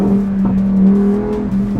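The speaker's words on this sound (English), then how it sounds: "an NA engine, it shrieks and howls and screams" A naturally aspirated car engine revs hard and continuously, its steady droning note holding loud and close with slight rises in pitch and no voices over it.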